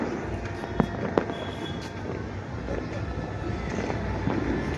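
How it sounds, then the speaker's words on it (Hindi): Firecrackers set off outdoors during a festival night, a few sharp cracks and pops standing out over a dense, continuous background rumble of distant bangs, with a voice talking in the clip. "पटाखे चलाने के बंद नहीं हो रहे अभी।"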